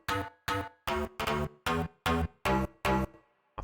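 Layered bass samples, Spanish, twangy elastic and a woody bass, in a bounce-style track: eight punchy, evenly spaced notes with sharp attacks and short decays, close and clean, then a brief gap.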